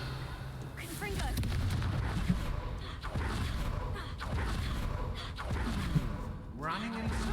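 Confringo spell blasts burst repeatedly in the Hogwarts Legacy video game, loud explosive bangs and whooshes over continuous combat noise with occasional voices.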